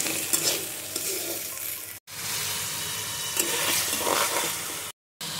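Spice paste fries in a pan as it is stirred, a close steady sizzle broken by scraping strokes and one brief gap, with no one talking.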